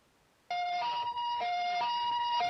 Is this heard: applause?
no